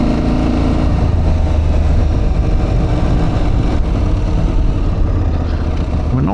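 Aprilia Tuareg 660 adventure motorcycle engine running steadily, a loud continuous low rumble with no pauses and no voices.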